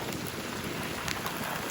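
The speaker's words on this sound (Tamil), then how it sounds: "பாருங்க, மழை நிறைய பெஞ்சுது" Heavy rain pouring down steadily during an outdoor trip near Neyveli, a dense, continuous hiss of drops close by with no voices heard.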